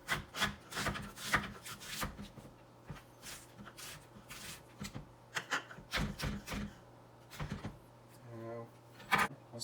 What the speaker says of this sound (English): Chop the onions. It's more like sliced onions.